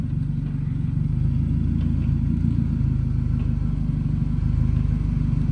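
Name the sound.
car driving forward during engine swap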